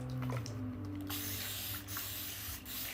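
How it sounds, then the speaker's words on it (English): An aerosol spray can hisses in bursts during cosplay preparation, a close, bright spray sound starting about a second in, with short pauses between pulses. "We're spraying it down."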